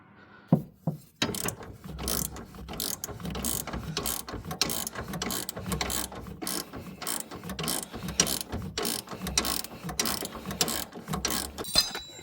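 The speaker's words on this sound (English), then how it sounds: "We tighten that bolt up." A ratchet tightening a bolt on an aftermarket coilover for a first-generation Audi R8 clicks in rapid repeated bursts of pawl ratcheting, close and loud, with brief pauses between strokes.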